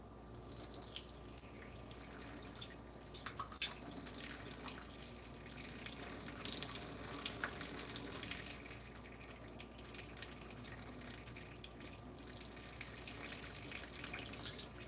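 Hot water pours continuously from a tap into a sink with occasional splashes and drips, held close and steady for about fifteen seconds, used for treating a doll's hair.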